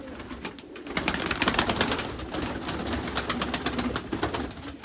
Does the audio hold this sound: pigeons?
yes